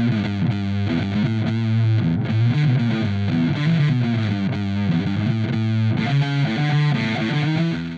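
An electric guitar on its neck pickup plays through a Brazilian-made fuzz pedal, producing a thick, saturated, sustained distorted tone with chords and riffs ringing continuously and loudly, no voices.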